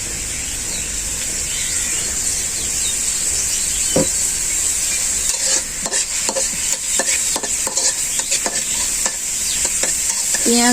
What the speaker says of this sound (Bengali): প্রথমে আমরা আজকে এই পেঁয়াজটা ভেজে নিব ভালোভাবে, তেল দিয়ে ভেজে নিয়ে